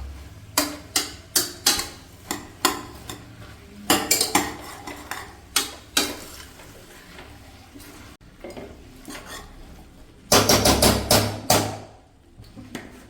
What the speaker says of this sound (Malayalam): അപ്പോൾ നമുക്ക് ഫ്ലെയിം ഒരു മീഡിയം ടു ഹൈയിലേക്ക് ഇട്ടിട്ട് ഒരു 2 മിനിറ്റ് ഇതൊന്ന് സോട്ട് ചെയ്ത് കൊടുക്കാം